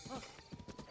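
A horse in the video game Zelda: Breath of the Wild whinnies and snorts with a few quick hoof clops, a brief, close burst under a steady game background.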